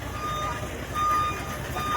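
A vehicle's reversing alarm beeping in a steady rhythm, a thin electronic tone over a low engine rumble, with people talking nearby.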